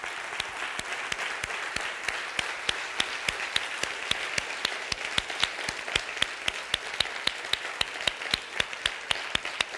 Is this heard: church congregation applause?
yes